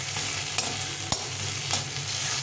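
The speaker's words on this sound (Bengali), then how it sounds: "এইভাবে করে ভালো করে হিটটা বাড়িয়ে দিয়ে কষিয়ে নিতে হবে" Masala paste frying over high heat, with a dense continuous sizzle close by and a few sharp scraping strokes of a spatula as it is stirred in the pan.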